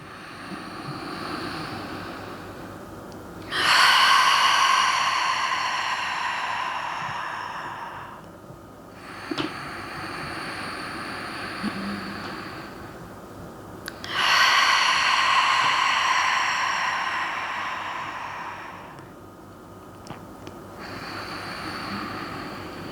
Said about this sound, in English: Finishing class today with 3 collective breaths